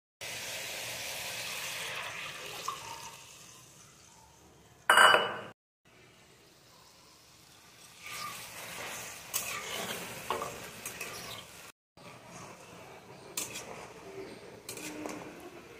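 Mustard paste stirred into a simmering parshe fish curry: soft sizzling and bubbling with scraping spoon strokes and a sharp clink of utensil against pan, quiet stretches and short bursts of stirring, no talk.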